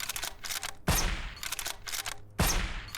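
Gunfire in the Redacted Zone shooter game: sharp rifle shots with short bursts and two loud, heavy reports, each followed by a ringing decay, close and punchy.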